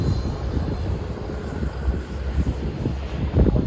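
An E-flite Habu STS radio-controlled jet plane passing by, a steady rushing engine drone with a slight swell toward the end, no talking.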